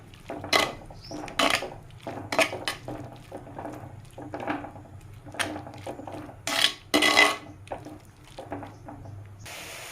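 Chopped plantain sautéed in ghee in a clay pot: repeated scraping and clinking of a spoon against the pot in irregular bursts over a faint low hum, no speech.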